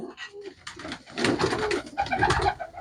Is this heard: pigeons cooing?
yes